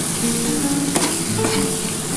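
A radish leaf mixture fries steadily in oil in a pan, with a constant close sizzle and a couple of sharp scrapes as it is stirred to stop it catching on the bottom.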